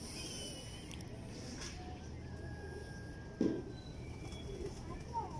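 A breeder pair of pigeons kept in a cupboard coos once, a soft low throaty call partway through, faint against a quiet indoor hum with a few small background bird sounds.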